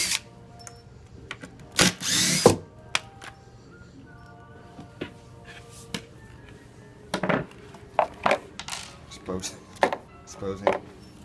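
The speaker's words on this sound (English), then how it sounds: "We're now going to take a drill gun and remove the 4 Phillips screws from the bottom panel of the fixture" Drill gun backing out four Phillips screws from the bottom panel of a light fixture, heard as a few short bursts of whirring with scattered clicks and handling clatter in between, close and moderately loud.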